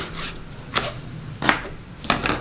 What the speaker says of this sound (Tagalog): Hiwa-hiwa lang.